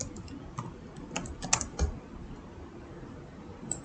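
Java code typed on a computer keyboard: quick, irregular close-up key clicks in short bursts with small pauses between, alone without talk.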